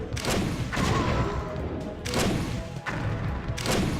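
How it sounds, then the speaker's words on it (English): A StarCraft Brood War tank firing on a missile turret in battle: heavy, booming blasts repeat roughly every second and a half, each one loud and thudding with a broad crackling tail. "Attacking a missile turret while getting hit in the head with a tank."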